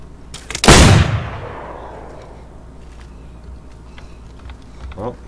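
A single loud, close gunshot from DayZ, a video game, cracks out and then rolls away in a long fading echo, with a faint click near the end.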